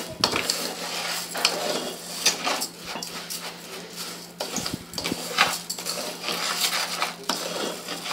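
Rice sizzles in hot oil in a pot while a spoon stirs and scrapes through it, with a steady close frying hiss and intermittent metallic scrapes and knocks against the pot.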